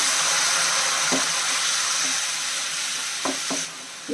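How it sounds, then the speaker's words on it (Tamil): Steady sizzling and frying hiss from a hot pan of egg curry, with a few faint clinks and a splash of a cup of hot water poured in near the end. "இதில் வந்து ஒரு கப்பு சூடு தண்ணி சேர்க்குறேன்"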